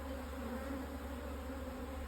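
Honey bees hum around an open hive being fed before winter, a close, continuous and steady buzz with no pauses and no voices.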